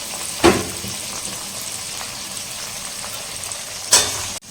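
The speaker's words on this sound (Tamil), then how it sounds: "தக்காளி நல்லா வதங்கட்டும் பார்த்துக்கலாம்." Tomatoes sauté in hot oil with ginger-garlic paste for a restaurant-style chicken roast, a continuous close frying hiss broken by two louder stirring scrapes near the start and end.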